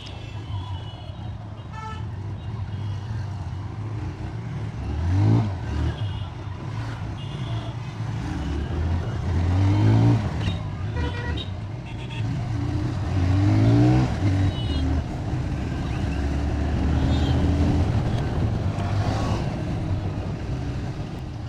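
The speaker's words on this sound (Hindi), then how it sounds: "स्टार्ट हो गई है फर्स्ट गियर और शोरूम से ही लेकर चल रहा हूँ भाई" A TVS Raider 125 ABS motorcycle, fresh from the showroom, pulls away in first gear, its engine note rising and falling through short revs, close and steady.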